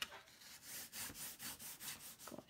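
Cardstock being scored with a tool along score lines, a rhythmic series of about eight close scraping strokes, each a short swishing rasp, with no talking.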